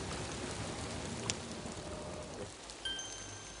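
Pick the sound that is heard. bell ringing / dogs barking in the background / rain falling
rain falling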